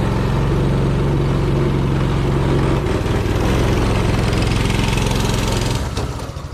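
A small go-kart engine with a freshly cleaned carburetor runs loud and close over dirt and grass in a backyard, a steady rough drone that fades slightly at the end.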